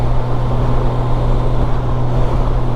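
A Honda Goldwing motorcycle cruising on the open road at about 2,500 rpm and 120 km/h, giving a steady, loud low engine hum blended with heavy wind rush, constant and unbroken, with no talking.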